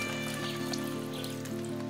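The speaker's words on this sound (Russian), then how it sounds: "И собираем в кокос свежую дождевую воду." Fresh rainwater dripping off a rolled wide leaf into an opened coconut on a desert island, a steady close patter of drops over a continuous humming tonal background.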